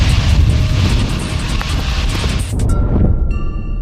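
Broadband roar of the six-engine Antonov 225 jet, steady and loud throughout, with a few tonal whines surfacing near the end.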